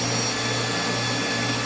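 Power drill running steadily while boring holes in a custom boat center console panel for 1/8 or 3/16 inch clecos, a continuous close, loud whir with a low motor hum and no pauses.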